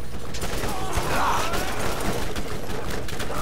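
Continuous gunfire in the video game Borderlands 1, a dense, steady rattle of rapid shots with mechanical clatter, loud and close throughout with faint voices mixed in.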